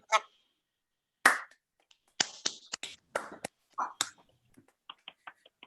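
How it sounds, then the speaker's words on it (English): Several online participants on a video call clapping after unmuting, sparse and uneven bursts of claps and snaps separated by silence, fairly faint. "Can everybody unmute and just give us a round of applause?"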